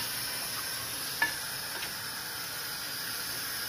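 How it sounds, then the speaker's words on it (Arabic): Chicken and onion fry in oil in a pan, a steady close sizzle with a brief stir or clink near the start, no talking. "نخليو مليح الدجاج تاعنا حتى يطيب يتحمر مليح بالبصلة والزيت"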